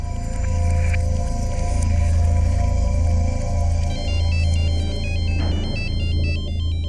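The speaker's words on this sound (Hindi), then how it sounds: "अरे, तो मेरे मोबाइल से फोन आ रहा है।" An incoming call sets off a mobile phone ringtone, a loud repeating electronic melody that plays on by itself for several seconds.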